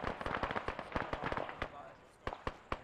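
Distant gunfire crackles in Arma 3, with rapid irregular shots and short bursts popping across the whole stretch, some louder and sharper near the end.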